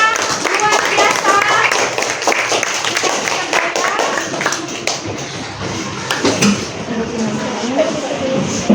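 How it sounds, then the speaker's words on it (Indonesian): Classroom clapping for a student group, a steady burst of many hands applauding at close range that lasts several seconds, with voices mixed in and continuing underneath. "Tepuk tangan untuk kelompok 5."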